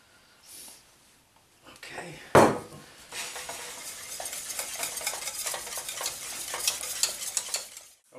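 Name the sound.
chocolate pudding filling cooking and stirred in a pot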